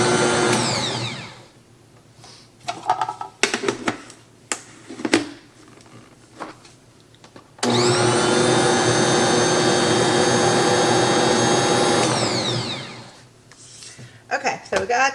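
An electric mixer whisks a pumpkin chocolate chip bread batter in a home kitchen, running as a loud, steady whir for about five seconds, with scattered clatter and handling noises before and after and a person talking.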